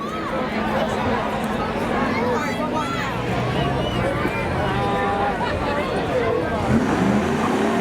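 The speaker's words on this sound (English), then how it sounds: "That's Dan Dias and that red Firebird going up against Joe Perry in the black Camaro" Spectator drag race at Seekonk Speedway pitting a red Firebird against a black Camaro, third-generation F-bodies, with loud revving engines and roaring exhaust over constant crowd chatter and babble.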